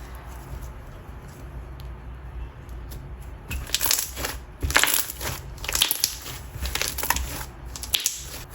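Very thick, heavy slime made from two slimes combined, squished by hand, starting as quiet low squelching and turning into loud, repeated sharp pops and crackles in the second half.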